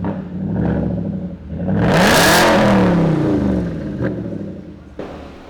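A 2008 Volvo S80 V8 with all-wheel drive revs hard once, its engine note climbing to a loud roaring peak before falling back to a rumbling idle, followed by a couple of sharp clicks near the end.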